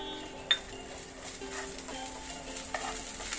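Chopped onion frying with ginger garlic paste gives a soft sizzle as a utensil stirs and clinks against the pan, with a sharp tap near the start and another later.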